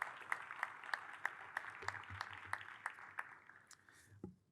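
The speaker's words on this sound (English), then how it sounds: "can we just give John and his whole team another big, enormous round of applause" Scattered, fairly sparse clapping from a small gathering at a community hospital reopening in Long Beach, individual claps standing out at a modest distance, tapering off with a brief thump at the end.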